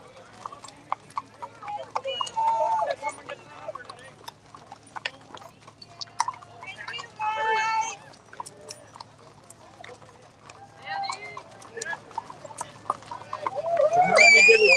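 Horses' hooves clip-clop along a road at a freedom convoy rally in Western Canada, with steady walking beats running throughout under people talking and cheering nearby, and an occasional whinny.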